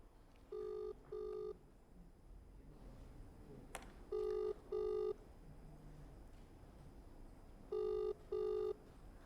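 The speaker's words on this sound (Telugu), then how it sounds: "ఎస్ రింగ్ అవుతోంది" Telephone ringback tone in three double rings, each pair of short electronic buzzes followed by a pause, clear and steady with no talking.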